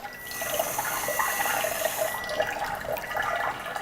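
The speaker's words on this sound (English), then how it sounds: "I'm also going to fill this with tap water" Tap water runs steadily into a wash basin, a continuous close rush of filling water with no voices.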